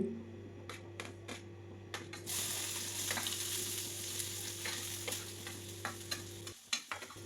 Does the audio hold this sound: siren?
no